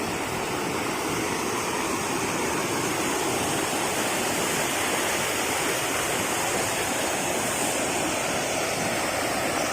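Continuous heavy rush of the Orappankettu waterfall at Peechi, Thrissur, broadband and constant, heard up close with no talking.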